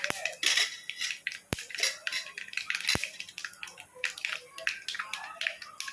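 Mustard seeds and cumin splutter in hot oil for a chutney tempering, making irregular sharp pops and crackles, some louder cracks among many small bursts, fairly faint overall.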